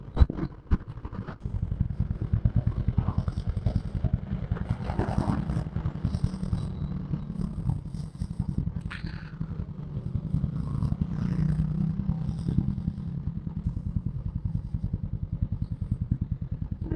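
A Classic 350 motorcycle thumps along continuously on a ride through Aizawl, its steady single-cylinder pulse close and loud, overlaid with wind rush and occasional rattles, with no talking.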